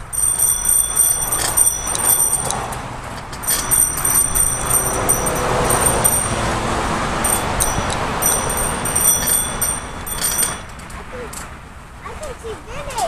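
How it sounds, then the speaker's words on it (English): Repeated rings of a bicycle bell on a family bike ride into a town centre, bright clusters of dings coming in several bursts amid road noise, with people talking throughout. "Let's ring a bell. Okay? Ring a bell. Ring a bell."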